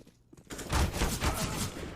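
Rapid SMG fire in a Counter-Strike: Global Offensive match on Mirage, a dense burst of shots starting after a brief quiet moment and rattling on at moderate loudness.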